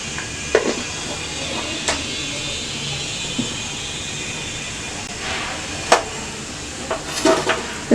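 Cumin seeds crackling in hot oil in a kadai, a continuous hiss broken by scattered sharp pops and small clinks, close and fairly loud.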